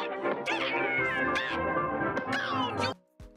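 A cartoon cat meows loudly in a drawn-out, wavering yowl lasting nearly three seconds, then cuts off abruptly into a brief faint tail.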